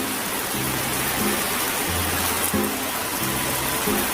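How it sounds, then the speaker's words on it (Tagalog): Steady rain hisses throughout, a dense, even wash of drops with faint low hums underneath and no voices. "Sabi nag-ulan, no?"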